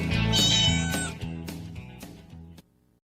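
Several loud, clear cat meows with harmonic tones, played in a local radio advertisement during a high school baseball broadcast, ending in a short quiet tail.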